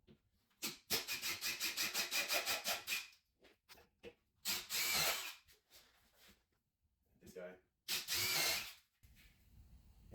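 A power drill countersinks screw holes in a wall cabinet during assembly, with several close, loud whirring bursts separated by pauses and brief talk.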